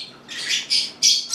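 Harsh, repeated squawks from a bird having its twisted leg treated, four loud bursts close by with brief pauses between them, no talking.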